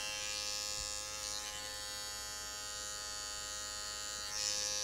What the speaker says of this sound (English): I'm going to use the back side of the clipper just to grab any hair.